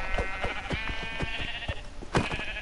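Sheep bleat in the Minecraft video game, a repeated wavering, nasal baa with quick stuttering pulses, clear and fairly loud, with a second bleat near the end and no talk.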